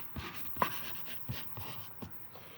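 Someone writes on a board with a few faint, sparse scratchy strokes and taps spaced irregularly, quiet and close, with no talking over them.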